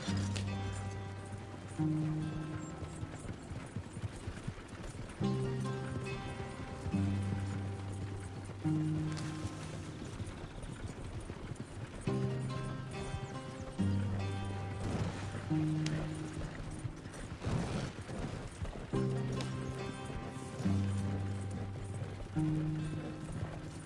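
Steady clip-clop of horse hooves galloping in the video game Red Dead Redemption 2, a rhythmic, moderately loud beat running throughout beneath a repeating musical backing.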